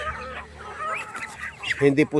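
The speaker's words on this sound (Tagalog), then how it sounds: "Una ko pong pinakain itong mga alaga po nating manok" Pet chickens cluck in short bursts while being fed, loudest near the end, mixed with a voice speaking Filipino and background noise.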